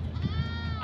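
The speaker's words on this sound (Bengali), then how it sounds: "এখানে তো ছাগল, দুই ধরনের ছাগল এখানে।" Goats of two kinds on a farm give a short, wavering bleat, close and moderately loud over a low background rumble.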